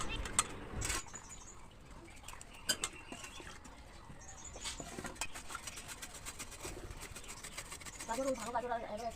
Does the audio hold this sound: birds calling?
yes